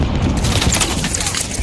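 Rapid gunfire in Call of Duty: Warzone, a dense, loud burst of overlapping shots and booms filling the short moment without a break.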